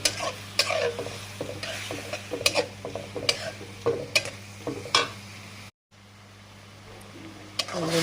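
Prawns are stir-fried in spice paste in a pan, making a low continuous sizzle broken by scraping spatula strokes and clinks against the pan, with one brief drop to silence.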